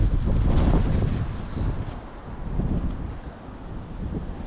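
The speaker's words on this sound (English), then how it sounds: "we're just getting a full brunt of the wind" Cold wind gusting across an open canal while pike fishing, rumbling buffets against the microphone that swell, ease and rise again, with no voices.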